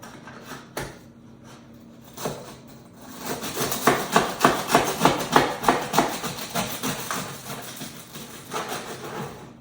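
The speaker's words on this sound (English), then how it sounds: "So let's cut in a little more. Let's get some slices going here." A knife saws through the crust of a rustic no-knead bread loaf, close by, with a train of rhythmic crunchy rasping strokes that build to a steady pace after a few quieter taps, and no talk.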